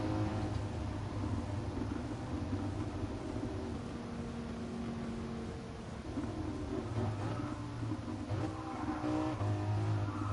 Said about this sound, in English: it's got crackles and pops out of the exhaust, or it's just not very loud.